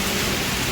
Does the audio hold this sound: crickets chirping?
no